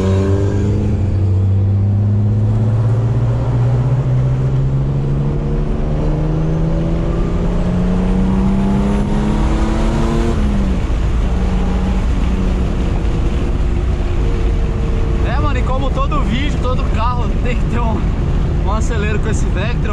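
Turbocharged BMW car engine revving and accelerating, loud and close, with rising and falling harmonic sweeps through gear changes, then rapid throttle blips near the end while wind buffets the microphone.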